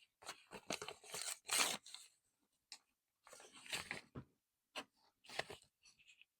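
Packing tape paper is torn and crinkled by hand in close, brief bursts of tearing and rustling separated by short pauses.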